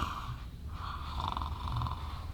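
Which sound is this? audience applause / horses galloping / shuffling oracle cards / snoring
snoring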